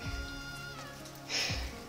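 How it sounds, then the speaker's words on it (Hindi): Rain falls steadily in a mountain village in Kinnaur, a soft continuous patter with a brief brighter splash of drops near the end and a faint tonal hum underneath. "यहाँ मेरे गांव में सुबह से बारिश हो रही है, सुबह से।"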